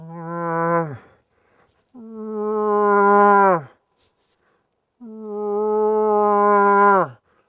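Three long, nasal, drawn-out calls with pauses between, each ending in a downward slide, made by a voice imitating a cow moose in heat.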